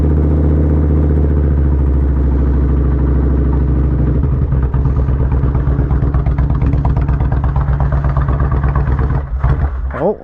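A Kawasaki Vulcan 1500 Nomad motorcycle engine warms up in the cold, running loud and close with a steady low throbbing idle that roughens and stumbles near the end.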